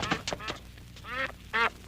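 A duck quacks in a short run of loud, nasal calls, a few quick ones then two drawn-out quacks, close by, amid a chase scene in a 1991 Filipino comedy film.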